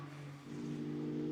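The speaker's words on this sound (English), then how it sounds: "The TFT racing car up towards turn 14 now, as Leroy accelerates into" A GT2 race car accelerates at Misano during a Fanatec GT2 Europe race, its engine note rising steadily and loudly after a brief dip, without commentary.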